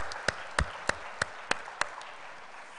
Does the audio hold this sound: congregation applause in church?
yes